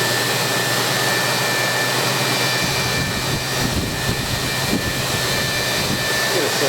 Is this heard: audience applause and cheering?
no